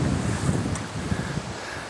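Strong wind blows across the sea on an autumn fishing trip for red sea bream and hairtail, a steady, loud rushing roar with buffeting against the microphone, and no talking.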